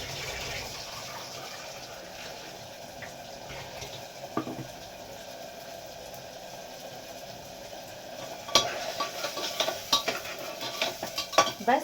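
Spinach and mushrooms being stirred and fried in a pan at home, a steady low sizzle with a spoon scraping and clinking against the metal, growing busier and louder toward the end with repeated sharp scrapes.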